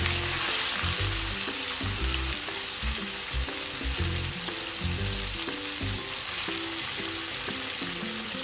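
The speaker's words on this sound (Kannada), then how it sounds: "ನೀರು ಬಿಟ್ಟು ಚೆನ್ನಾಗಿ ಬೇಯೋವರೆಗೂ ಇದನ್ನು ಎಣ್ಣೆಯಲ್ಲೇ ಫ್ರೈ ಮಾಡ್ಕೋಬೇಕು" Chicken pieces coated in masala, turmeric and ginger-garlic paste sizzle continuously in hot oil in a pan, cooked for a chicken pickle; the steady hiss carries on with a rhythmic low musical backing beneath it.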